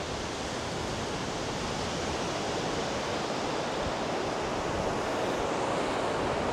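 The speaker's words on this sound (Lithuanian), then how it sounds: "Taip, kliūtis, upė teka, bet negiliai aišku." A shallow river flowing nearby, heard as a dense, even rush of water that holds steady throughout with no voices.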